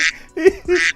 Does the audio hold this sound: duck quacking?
yes